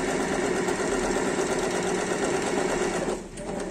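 An Usha sewing machine runs steadily while stitching a buttonhole, a loud, continuous mechanical whir that stays close and constant before briefly easing near the end.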